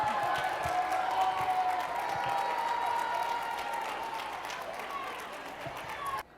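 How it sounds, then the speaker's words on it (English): Audience applause fills a large hotel ballroom of more than a thousand people at a speaking event, a steady broad wash of many hands clapping, fairly distant and sustained, tapering slightly before stopping abruptly. "Let's give her a big round of applause."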